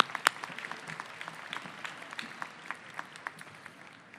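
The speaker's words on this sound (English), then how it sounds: "Let's give them a round of applause" Scattered applause for trustees at a college commencement, fairly faint and somewhat distant, made up of individual claps that stay light and uneven throughout.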